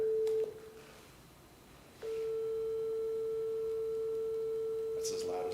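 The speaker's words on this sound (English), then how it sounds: "play the first pitch on this device and the second pitch on this" A pure sine-wave pitch played from a device, a steady electronic tone that drops away briefly and then returns louder and holds unbroken to the end, against a quiet room.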